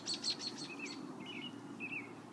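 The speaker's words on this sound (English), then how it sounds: "Listen to the birds." Birds singing outdoors, a quick series of bright chirps followed by a few thin whistled notes, faint and somewhat distant over a low background rumble.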